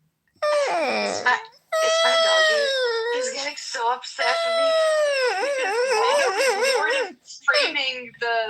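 A pet dog howls and whines in long, wavering, pitch-bending wails, loud and close, with short breaks between drawn-out cries.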